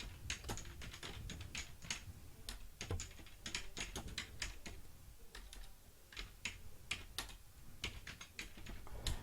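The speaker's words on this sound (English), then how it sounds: "I can also go to a notepad and I can type a message" Computer keyboard typing a message in notepad software, with rapid irregular key clicks in bursts, close and fairly quiet, with no talking.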